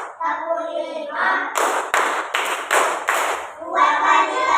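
Five sharp, evenly spaced group claps ring out in a school classroom clapping game, loud and near, with a teacher's voice speaking just before and after.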